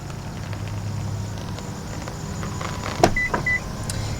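Power return motor on a 2020 Infiniti QX60 raising a folded seat, heard as a steady low electric whir over cabin hum, then a couple of brief mechanical clunks and a short motor whine near the end.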